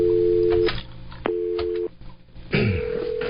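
Outgoing call to a 1-800 call center line: a steady electronic ring tone sounds twice in long, even bursts separated by a pause, then a faint recorded voice begins answering near the end.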